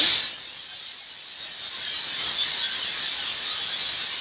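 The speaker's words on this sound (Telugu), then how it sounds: "ఇప్పుడు స్టవ్ ఆఫ్ చేసి ఈ ప్రెషర్ అంతా తీసేయాలి" A kitchen pressure cooker lets off built-up steam after three whistles, a sustained, fairly loud high hiss that dips briefly and then holds steady, with no talking.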